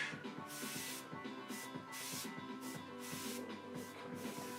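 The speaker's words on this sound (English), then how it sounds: "if you have a little bit of control with your airbrush" An airbrush sprays gold paint in short, repeated bursts of soft close hiss with brief pauses between, quiet against a faint background hum during custom Wonder Woman paint work.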